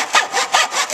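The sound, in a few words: handsaw cutting wood in a miter box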